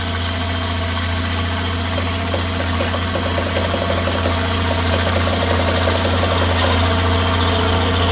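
Yamaha Bruin 250 ATV engine idling steadily after a carburetor cleaning, a constant close, loud drone with a light rhythmic knock throughout.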